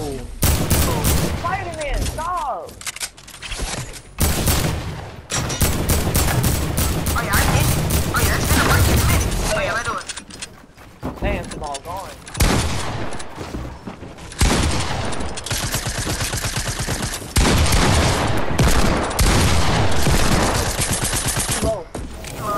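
Dense, sustained bursts of automatic gunfire and rapid shots from a PS4 duos shooter match, loud and nearly continuous with brief lulls, while players talk over the action.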